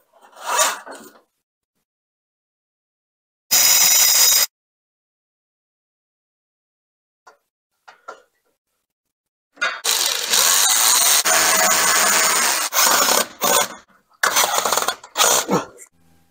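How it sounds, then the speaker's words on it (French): A small metal furring channel for plasterboard is cut up close: one short harsh rasp, a pause with faint taps, then a longer run of scraping, grinding cuts in uneven bursts, with no talk. "Je coupe une petite fourrure"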